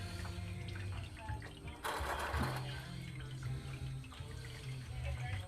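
Warm transmission fluid drains from a 2005 GM 4T65-E transmission during a replacement, a steady liquid pour and splash running through the clip, with a brief louder gush near the middle and low voices faintly underneath.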